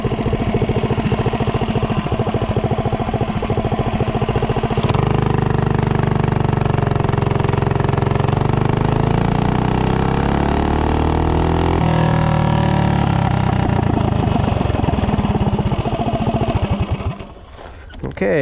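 A small engine fitted with a Mikuni VM22 carburetor and a short intake manifold runs loud and close, its tone rising and falling as it revs, with a voice briefly heard over it.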